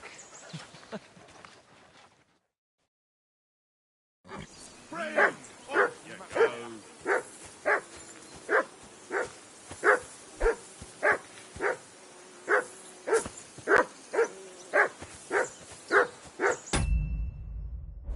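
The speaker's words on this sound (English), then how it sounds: "Call that dog! Do something with that mutt, Henry." A dog in the medieval video game Kingdom Come: Deliverance 2 barks repeatedly at a steady, even rhythm, about twenty sharp, fairly close barks in a row after a brief stretch of faint voices and a moment of silence.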